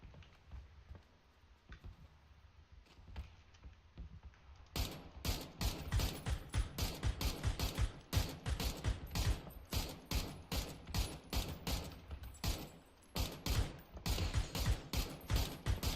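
Rapid gunfire in PUBG, faint scattered shots at first, then a loud, sustained stream of sharp automatic bursts in quick rhythm with brief gaps.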